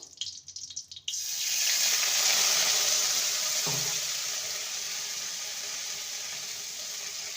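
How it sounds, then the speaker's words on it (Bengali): Water is poured into a pan of frying soya chunks, a sudden loud rushing splash followed by a steady, bubbling sizzle that slowly settles, close and without talk. "এবারে দিয়ে দেবো সামান্য জল"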